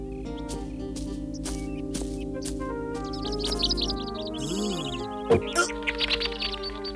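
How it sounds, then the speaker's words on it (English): Birds chirp in a woodland scene of an animated fairy tale, bright twittering calls over a backdrop of soft orchestral music, with a few sharper sliding whistles near the end. "What beautiful birds they are."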